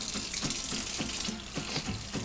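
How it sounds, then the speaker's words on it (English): A raw salmon fillet is rinsed under a cold kitchen tap, a steady rushing water stream with splashing and irregular spattering changes as the fish is moved through the flow. "I just like to run it under some cold water."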